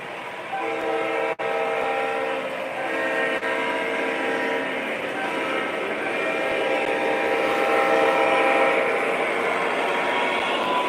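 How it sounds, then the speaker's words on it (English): A model train's crossing signal sounds on a P&LE locomotive, a steady sustained horn-like tone that plays continuously and fairly loud with only brief dropouts. "I'll do the crossing signal sounds on the PNLE here coming up to the crossing."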